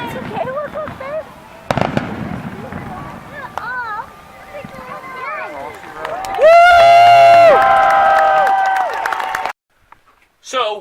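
Fireworks display with crowd noise, heard as a series of bursts and crackles mixed with cheering and voices, with whistling rising tones near the end before the sound cuts off.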